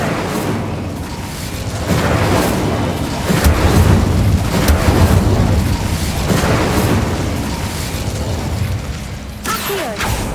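A fire spell cast in the game Hogwarts Legacy, a sustained roaring, crackling blaze with deep booming rumble that swells and pulses for about ten seconds, loud and close, ending in a sharper burst.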